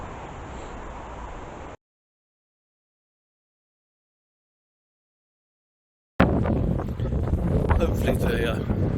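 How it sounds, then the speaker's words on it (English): Wind buffeting a microphone outdoors near pollarded willows, a steady loud rumble for under two seconds, then silence, then a stronger gusty roar with faint rustling returning for the last few seconds. "Hopefully the wind noise isn't too much."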